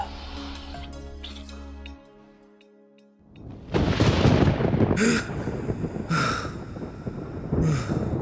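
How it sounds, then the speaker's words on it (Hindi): A thunder crack sound effect bursts in loudly after a brief quiet gap, a broad crashing rumble with several sharp follow-up surges over about five seconds. "अचानक बिजली के कड़कने से केशव की नींद खुली।"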